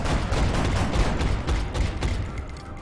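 Overwatch gunfire in the video game XCOM: dense, overlapping bursts of gunshots crackle steadily for about three seconds at a fairly loud, constant level, with no talking.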